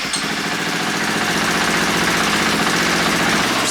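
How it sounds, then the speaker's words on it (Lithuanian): A KTM EXC-F supermoto motorcycle engine, freshly rebuilt, idles steadily and loudly up close with an even, throbbing mechanical rumble and no voices. "Užsivedė. Šiaip tai variklis dirba dabar kaip laikrodis."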